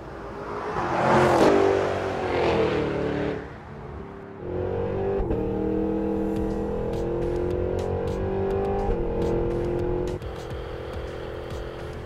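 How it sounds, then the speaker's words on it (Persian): A Cadillac V8 with its exhaust valves open in sport mode, a close, loud rev that swells and falls, then a steady engine drone with faint clicks, softening slightly near the end. "اگزوز دریچه‌ش رو باز میکنه که بتونی صدای 8 سیلندر رو بشنوی"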